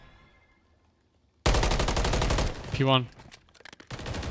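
Gunfire in the video game Warzone: silence breaks into loud, rapid automatic bursts, with a player talking over the shooting and scattered shots trailing after.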